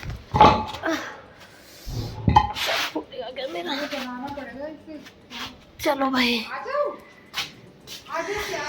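A dog barks in short bursts amid lively talk from several people nearby, with clattering noises mixed in.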